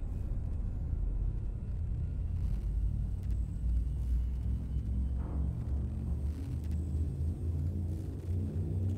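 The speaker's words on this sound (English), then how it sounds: "Frameshift drive charging." Frame shift drive charging up aboard a ship in the space game Elite Dangerous, a steady deep rumble holding at even loudness throughout with a faint rising whine partway through and no voices.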